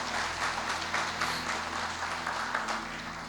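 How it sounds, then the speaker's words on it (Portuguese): A church congregation applauds during a Portuguese-language sermon, with steady rhythmic clapping over a low hum throughout. "Aplauda bem forte o Senhor."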